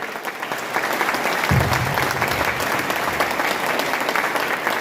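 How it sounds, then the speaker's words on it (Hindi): A business seminar audience breaks into loud, sustained applause for Dinesh Mohan ji, the clapping swelling after a quieter start and then staying dense and even to the end. "एक बार दिनेश मोहन जी के लिए जोरदार तालियां"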